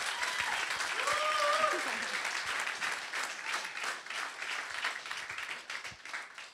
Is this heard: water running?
no